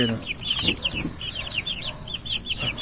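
Pet chickens in a pen cluck and chirp in quick, repeated high notes, close and lively throughout, with faint thumps and rustling underneath.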